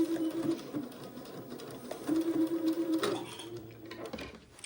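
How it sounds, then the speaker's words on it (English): A sewing machine running a seam on a child's Eton suit, with a steady close mechanical whir and rhythmic needle chatter that pauses briefly and then resumes. "Okay, got that seam sewn."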